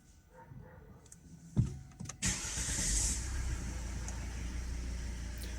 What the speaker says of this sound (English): Just listen how the car is starting.